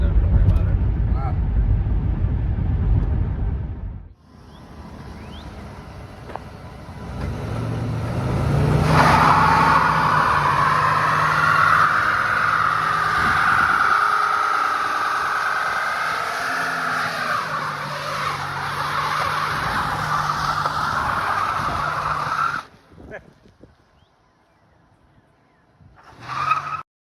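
A 1991 Mercury Grand Marquis driving, its engine droning steadily under the car's cabin noise, rising and holding a strained tone for long stretches before dropping away, with speech heard over parts of it.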